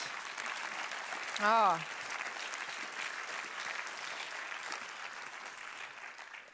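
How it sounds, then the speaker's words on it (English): Big round of audience applause at a student award event, a steady dense clapping crowd heard throughout, briefly interrupted near the start by a single loud vocal exclamation. "Let's give them another big applause."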